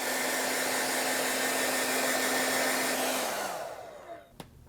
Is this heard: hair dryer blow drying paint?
yes